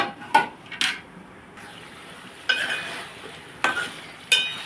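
Taro root pieces cooking in oil in a pan, a low sizzle punctuated by several sharp utensil clanks and scrapes against the pot, close and without talk.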